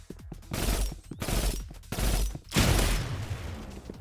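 Bursts of loud, dense automatic gunfire in the video game Roblox Rivals, coming in three or four sustained volleys separated by short gaps, with no speech.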